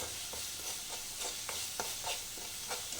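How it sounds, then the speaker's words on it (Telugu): Masala for a prawn curry fries in a pan with a quiet, continuous sizzle and scattered light scrapes as it is stirred, heard close without talk. "బాగా వేపుకోవాలి."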